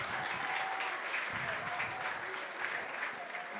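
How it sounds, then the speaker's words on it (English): Sustained applause from a large crowd at a Utica Blue Sox vs. Oneonta Outlaws baseball game, steady clapping and cheering filling the whole stretch, with a faint whistle-like tone floating above. "gets up to the applause he deserves"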